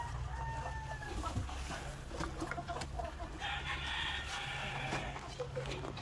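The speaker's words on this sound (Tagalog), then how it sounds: "So ito na yung rooster mga ka-farmers." Rooster on a laying-hen farm, crowing and clucking over a constant low hum, with other fowl sounds scattered through the background and no voices.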